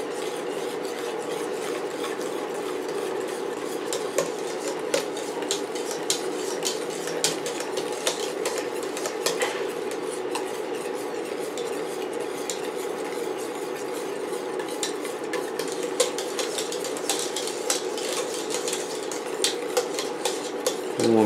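A utensil scrapes steadily around a pot of heating homemade eggnog mixture of cooked eggs, a continuous close stirring rasp with small clinks and no talking.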